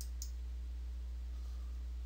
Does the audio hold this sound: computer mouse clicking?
yes